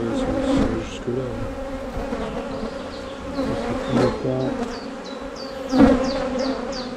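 Honey bees buzz agitatedly around an open hive during a spring inspection, a dense continuous drone with individual insects zipping close past, moderately loud with no talk.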